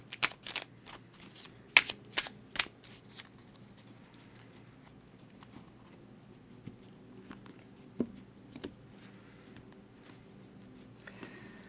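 Tarot cards riffled and shuffled by hand in a quiet room, a burst of crisp flicking and snapping in the first few seconds, then softer occasional card taps and slides with long near-silent gaps.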